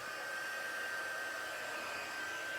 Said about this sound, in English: I'm going to get the heat tool and we're going to heat it up